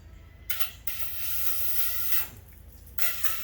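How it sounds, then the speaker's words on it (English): Brake parts cleaner is sprayed from an aerosol can into a hose in bursts: a short hiss, then a longer steady spray, then another short blast, close and fairly soft. "I like to use brake parts cleaner because it doesn't leave a residue."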